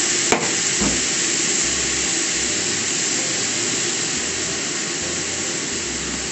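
Water poured into a hot pan of stir-fried konnyaku with bonito flakes and chili over high heat hisses and sizzles in a loud, steady broadband rush that holds for the whole stretch.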